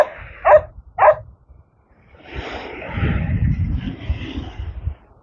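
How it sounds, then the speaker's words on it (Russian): A dog named Tuesday gives two sharp, loud barks close by, then falls quiet before a muffled, rumbling stretch of movement. "это собака"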